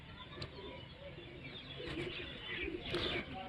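A racing pigeon, flown for about three years, coos softly with faint flutters and chirps against steady background noise, at moderate distance.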